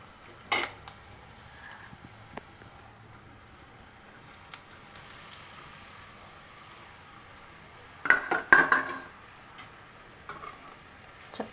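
Soaked puffed rice and turmeric are mixed in a pot, giving a few sparse scrapes: one near the start, then a short burst of clattering stirs near the end, against an otherwise quiet background.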